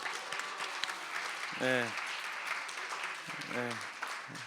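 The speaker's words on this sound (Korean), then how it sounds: "박수 한번 주세요." Students at a winter church camp clap for a classmate who answered well, a broadband patter of hands behind a steady hubbub, with voices talking over it.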